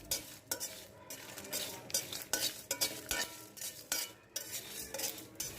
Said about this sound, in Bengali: মরিচটা একটু ভাজতে সময় লাগে, তাই এটা আগে দিলাম